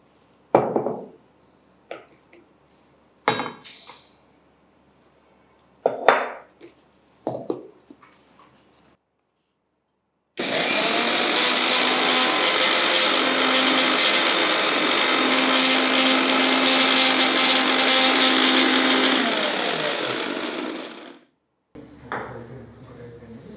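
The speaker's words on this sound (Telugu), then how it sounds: "దీనికి కావాల్సింది మనకు ఒక చిన్న మిక్సీలో వేసి మనం దీన్ని పౌడర్ చేసుకుందాం." Small mixer grinder powdering flax seeds, a loud continuous whirring roar running for about ten seconds before cutting off, preceded by a few sharp knocks of handling and followed by a short quieter burst, with brief talk at the start.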